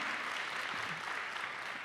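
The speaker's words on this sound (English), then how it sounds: "please give yourselves a round of applause for supporting women" Applause from an audience at a women's storytelling event in St. Louis, a dense, fairly quiet wash of clapping that holds steady through the short stretch with no voices above it.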